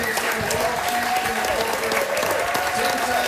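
A room at a 2013 World Series of Poker main event in Las Vegas applauds Doyle Brunson with sustained, even clapping, while a commentator's voice carries over the top.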